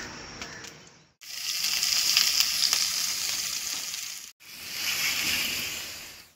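Chopped onions hit hot coconut oil for a chicken biryani, giving a bright, loud sizzle that breaks off twice as the pan is stirred, then resumes strongly, with no voices.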